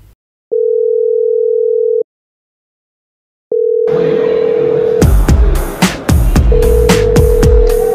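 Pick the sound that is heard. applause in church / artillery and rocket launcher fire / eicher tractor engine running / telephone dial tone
telephone dial tone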